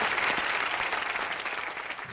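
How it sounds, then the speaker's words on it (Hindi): A studio audience on a Kapil Sharma comedy show gives steady, dense applause that carries on without pause and slowly tapers off. "काफी है, तालियां"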